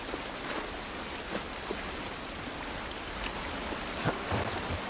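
Steady outdoor rain hissing continuously in The Last of Us Part 1, broadband patter with a few slightly louder drops and gusts, no voices.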